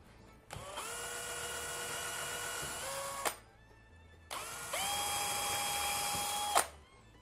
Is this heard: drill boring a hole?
yes